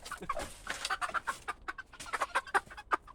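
Chickens cluck in a cheap homemade coop fitted with roosting bars, a close, busy run of short overlapping clucks and calls with no talking.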